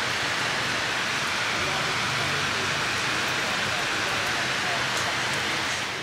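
Steady rain pours down as a dense, even hiss that fills the whole stretch without a break, fairly loud and close.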